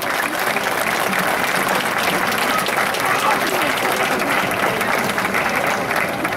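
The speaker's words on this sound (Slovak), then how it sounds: "To si zaslúži potlesk, myslím" Sustained applause from an outdoor crowd at a town fair, steady and loud for several seconds with no pauses.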